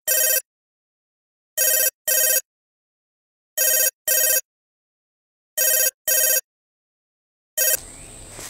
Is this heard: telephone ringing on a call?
yes